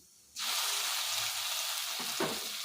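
Mint gojju sizzling as it hits a hot pan, a sudden loud frying hiss that starts abruptly and holds steady, with a couple of soft stirring knocks near the end and no talking.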